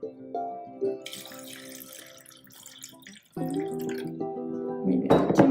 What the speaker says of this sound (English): I'm going to pour in a little bit more here.